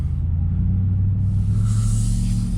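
A 2022 Ram TRX pickup truck's engine rumbles at a steady, loud, deep idle close by, with no talk.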